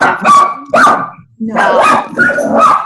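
A dog barks loudly and close by in two short bursts, pauses briefly, then lets out two or three more rough, throaty barks.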